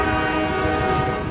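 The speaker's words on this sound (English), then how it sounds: "There's the sound that makes the Klondike neighborhood in East Liverpool shake with concern." A train passes through the Klondike neighborhood of East Liverpool, its loud horn holding a rich chord over the rumble of rail cars, close and continuous throughout.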